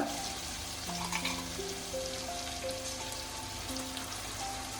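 Onion and garlic paste frying in a pan makes a continuous moderate sizzle with a crackle like light rain, while a soft melodic tune plays over it.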